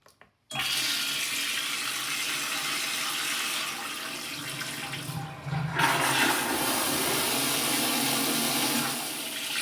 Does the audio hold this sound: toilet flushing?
yes